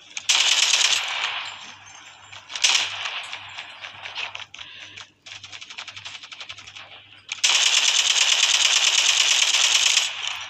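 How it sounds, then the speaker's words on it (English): Rapid automatic gunfire in Call of Duty rattles out in several long, loud bursts separated by brief pauses, with a faint hum underneath. "I'm emptying the entire mag on his face."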